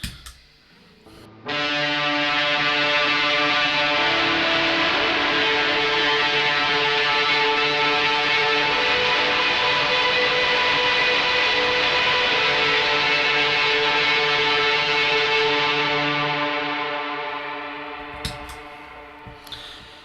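A single distorted guitar chord rings out and sustains for many seconds, washed in reverb and echo, slowly fading near the end.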